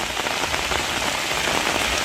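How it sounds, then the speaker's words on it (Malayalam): Steady, dense rain falling on surfaces outdoors during an afternoon downpour in a farming area of Kerala, a continuous close hiss with no talking. "ഇന്ന് 2:30 പെയ്ത മഴ"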